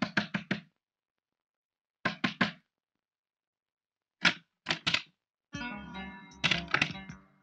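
Knocking on a house door in a film scene comes in quick groups of three sharp raps, repeated several times with pauses, and the last knocks overlap music.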